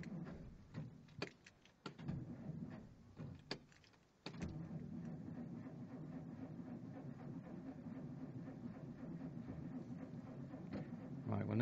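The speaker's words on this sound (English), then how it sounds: "If the starter motor will engage." A 1949 Dodge car engine is cranked by its starter motor in several short bursts, then a steady churning drone continues, with a voice briefly audible.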